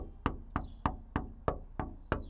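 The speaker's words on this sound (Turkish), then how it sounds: "Yahu bizim kapı Ramazan davulu mu da dan dan dan çalarsın" Seven sharp, evenly spaced knocks on a wooden door, loud and close, with no voices over them.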